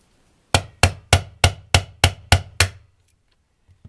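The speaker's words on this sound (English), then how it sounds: "that's when your little hammer comes into play, if you have one." Eight evenly spaced sharp metallic taps of a small hammer driving out a Glock trigger pin, close and loud with a short ringing decay after each strike, followed by quiet.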